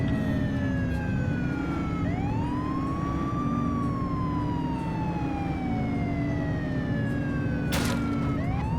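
A police car siren from the 1980s police-sim video game The Precinct wails steadily and loudly for the whole stretch, rising and falling in long sweeps over a constant engine rumble.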